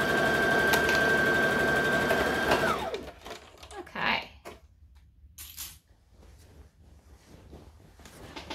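A Simplicity 1801 sewing machine running in a fast, steady whir of stitching for a few seconds, then stopping, followed by quieter handling clicks and fabric rustles.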